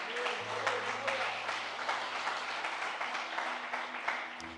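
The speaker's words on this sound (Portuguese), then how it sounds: "Você pode aplaudir o Senhor?" A church congregation applauding steadily in a large room, dense clapping sustained throughout with a faint low hum beneath.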